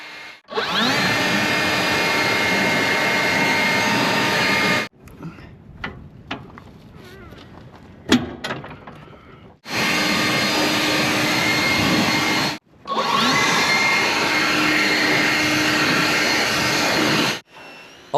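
A power washer cleans a John Deere Z930M zero-turn mower in loud, steady sustained bursts of spray, broken by a quieter stretch of clatter and knocks before the spraying resumes.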